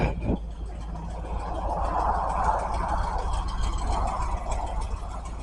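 A 1977 Dodge Ramcharger SE 4x4 with a factory 440 V8 and side exhaust idles steadily, a low, fairly quiet, even rumble throughout, with a brief knock near the start.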